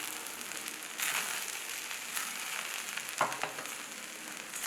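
Mushroom fried rice sizzles steadily in a pan while being stirred and tossed, a soft continuous frying hiss with a few louder scraping bursts of the spatula.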